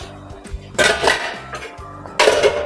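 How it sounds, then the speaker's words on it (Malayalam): A plate set over a pan as a makeshift lid in a home kitchen, giving a few clinks and scrapes of metal and crockery, with two brighter clattering contacts close by. "അതുവരെ ഇപ്പം ഞാൻ ഒരു പാത്രം വെച്ചോ പ്ലേറ്റ് വെച്ചോ അടച്ചു വെക്കും"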